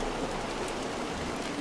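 Rain falls steadily in Montague's Mount, a dense, even hiss of drops filling the short stretch without a break, with no voices.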